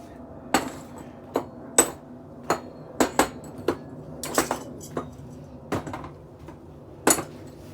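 Sharp metallic knocks and taps while a heavy duty decking light is stripped down for scrap, about a dozen irregular close impacts with short gaps, no talking.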